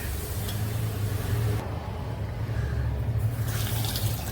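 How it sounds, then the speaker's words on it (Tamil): Tamarind soaking water pours into a simmering pot of sambar, giving a soft, continuous splashing trickle with a faint bubbling underneath, close and fairly quiet and broken by a short lull midway. "இப்போ நான் புளி ஊற வச்சுருந்தேன். இதுக்கு அந்த தண்ணி விட்டுறேன்."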